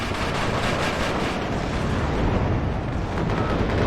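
Cluster munitions from a Tornado jet detonating in the WARNO war game, a dense, continuous rumble of overlapping blasts and booms filling the whole stretch at steady loudness.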